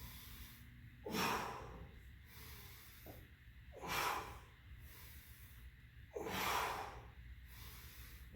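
Heavy breathing during a kettlebell workout: three slow, forceful breath cycles, each a loud hissing rush through the nose or mouth, spaced a few seconds apart with quiet breathing and a faint background hum between them.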